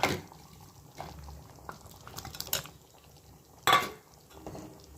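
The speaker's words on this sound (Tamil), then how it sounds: "கொஞ்சம் நேரம் கொதிக்கட்டும்" Paneer butter masala gravy simmers in a pan with faint, irregular bubbling pops and soft spatters, plus one louder burst, all fairly quiet.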